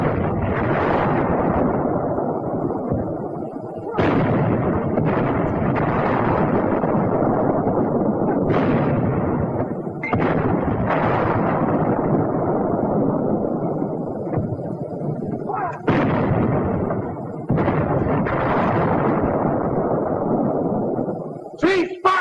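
A WWII US Army infantry weapon fires a series of heavy, sharp blasts at a four-foot-thick roadblock. The blasts punch out at irregular intervals over a loud, continuous old film soundtrack.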